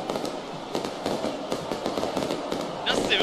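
Fireworks and firecrackers set off by football fans in a packed stadium crackle and pop in rapid, uneven bursts over a dense crowd roar, loud and close.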